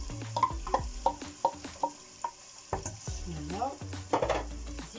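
Onion cooking in two or three large ladles of oil in a pot, with repeated clinks and scrapes of a utensil stirring over a soft sizzle, close by and without speech.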